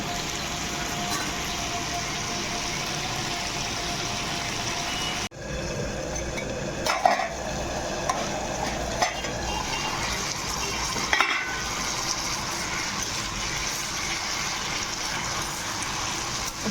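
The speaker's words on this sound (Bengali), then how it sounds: "আলু, আদা, লঙ্কা, টমেটো সব একসঙ্গে দিয়ে ভালো করে ভেজে নেব" Potatoes, ginger, chilli and tomato frying together for an aloo chorchori, a steady dense sizzle running throughout with a sharp drop near five seconds and occasional stirring knocks, close and continuous.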